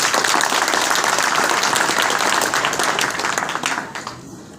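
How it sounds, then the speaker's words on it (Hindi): Loud, dense audience applause at an Indian public event on cyber crime awareness, a steady roar of many hands clapping that fades gradually toward the end. "मैं आपको गुजारिश करता हूँ कि आप एक बार जोर से तालियां बजाएं"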